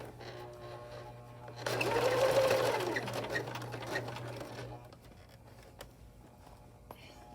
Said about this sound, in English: sewing off the edge and back stitching to lock this in